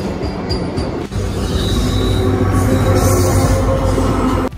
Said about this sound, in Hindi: लाओ तो ये लगी है प्लेटफॉर्म नंबर एक पे संगम एक्सप्रेस।